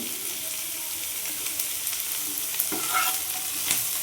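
Onion and carrot sizzle in a pan for a corn chaat, with a steady hiss and a few scraping stirs near the end, close and with no speech.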